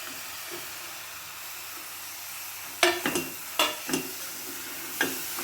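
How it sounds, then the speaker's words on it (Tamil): Tomatoes go into a pan for a mutton gravy cooked with almost no oil, on low heat; a faint steady hiss with several brief, sharper sizzling bursts as they hit the pan. "இப்போ தக்காளி போடுறேன்"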